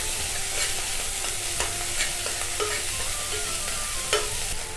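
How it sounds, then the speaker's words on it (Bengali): Turmeric-coated ginger sautés in a pan with a continuous sizzle, while a spatula makes repeated light scrapes and taps close by; no talking. "তারপর হলুদ মাখানো আদা দিচ্ছি, কারণ হলুদটা দিলে বন্ধুরা ছেটকাবে না। দিয়ে আমি একটু কষে নেব"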